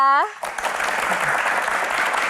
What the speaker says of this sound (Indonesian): Langsung saja kita berikan tepuk tangan yang paling meriah untuk panelis kita di edisi spesial ini